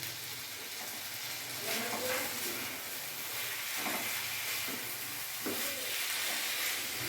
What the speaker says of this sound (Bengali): একটু কষে নিই, তারপরে জল দেবো আমি